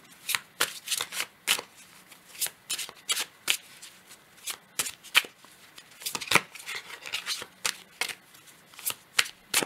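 Oracle cards being shuffled by hand in a tarot-style reading: rapid, crisp riffling flutters in irregular bursts, close and clear, with no talking.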